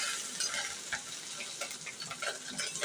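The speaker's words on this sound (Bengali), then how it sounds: "এই তো মাছগুলো কিন্তু আগে আমি ভেজে নিচ্ছি ভালো করে" Rohu and mola fish frying in a pan, a bright, crackling sizzle with scattered small pops and spits, heard close and without any talking.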